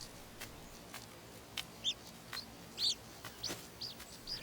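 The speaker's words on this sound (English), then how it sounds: "the baby birds cry and grow impatient" Baby birds in the nest give thin, high chirps in short scattered bursts, faint and spaced over a quiet hiss of open air, with no talking.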